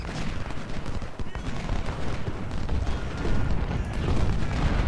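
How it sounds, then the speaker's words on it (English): Artillery and gunfire from a Civil War battle at Stones River in the Ultimate General: Civil War video game, a dense continuous rumble of booming shots and volleys, loud and steady throughout with no talk. "Artillery, open up on Croft."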